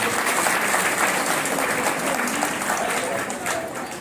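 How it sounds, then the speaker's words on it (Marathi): An audience at a children's literature conference claps in steady, dense applause, close and sustained throughout. "टाळ्यांचा गजर"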